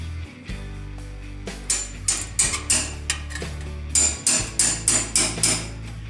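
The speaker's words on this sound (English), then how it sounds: "Grab your hammer, and we're going to drive this guy home." A hammer drives a flat-bottomed punch into steel sheet metal while an iris is being built, giving a string of loud, sharp, ringing metallic strikes, first spaced out and then in a steady rhythm, over a continuous background hum.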